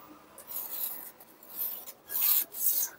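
Pencil drawing straight lines on paper pattern for a 40-inch katori blouse, a close, dry scratchy rasp in several uneven strokes with brief pauses between, no voices.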